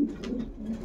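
Racing pigeons in a loft give a short, soft, low coo, close and alone against quiet background.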